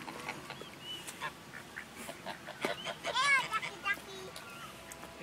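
Ducks quack in short bursts while being fed by hand. A child and an adult talk softly over the calls.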